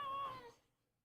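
A single short cat meow, fairly close and clear, trailing off into quiet within about half a second.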